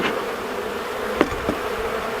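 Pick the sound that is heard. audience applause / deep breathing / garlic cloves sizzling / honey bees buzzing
honey bees buzzing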